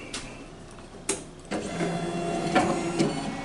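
A K40 CNC laser engraver powering up and homing: a few sharp clicks early on, then a steady mechanical whir with stepping tones as the gantry moves to its zero position, close by and fairly quiet, no talking.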